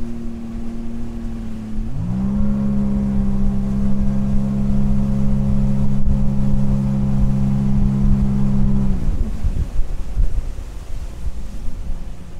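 A 2023 Sea-Doo Switch 21 Cruise pontoon boat with a 230 hp engine runs on open water, its steady engine drone rising in pitch, holding, then falling away. Wind rush and water noise sound throughout, and nobody speaks.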